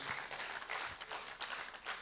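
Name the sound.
audience applause for the panelists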